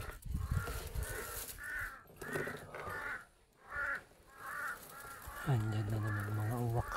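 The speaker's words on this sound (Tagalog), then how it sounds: "Andyan na naman mga uwak." Crows caw in repeated harsh calls across a post-storm hunting outing, loud and fairly near, with a low droning hum joining near the end.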